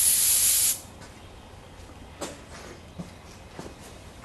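Brake cleaner sprays from an aerosol can onto the rear brake rotor of a 2015 Jeep Wrangler in a loud hissing burst under a second long, followed by quiet with a few faint clicks and taps.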